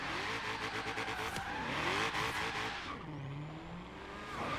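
Race cars in a Forza Horizon 3 drag race roar and rev loudly, then tires skid and squeal as an engine note sweeps upward, all close and continuous.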